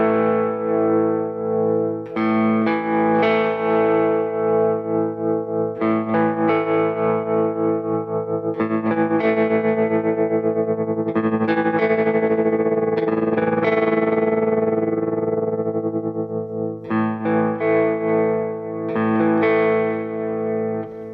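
An electric guitar through a Morley M2 series pedal, a distorted effect swept back and forth as the pedal moves, with repeated strummed chords ringing and shifting in tone, loud and close.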